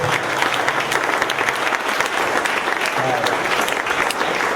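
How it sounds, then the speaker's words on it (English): Enthusiastic applause from a crowd fills the whole stretch, steady and fairly loud, with scattered voices mixed into the clapping. "let's give one more round of applause for Impact Hub"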